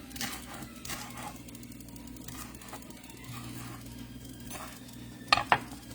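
Shallots and scallions fry in a pan with a soft, steady sizzle while a utensil stirs and scrapes, ending in two sharp clinks against the pan. The sound is close and quiet, and no one talks.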